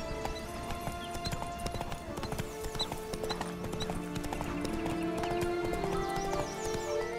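The horse Roach gallops in The Witcher 3, steady rapid hoofbeats with a neigh, under game music and ambient sound, heard up close.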